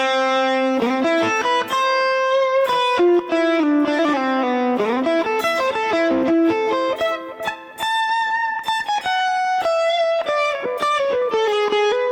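A Bullfighter D160SE digital guitar played through its onboard delay effect, a loud, continuous run of melodic notes with sustained ringing tones trailing after each pick, no talking over it.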